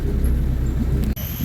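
An empty lorry's engine idles and rumbles steadily as it is pulled toward a livestock pen, a close, continuous low drone that cuts off for a moment near the end.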